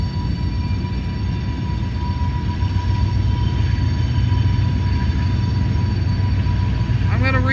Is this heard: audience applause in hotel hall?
no